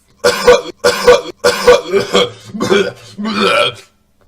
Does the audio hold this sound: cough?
yes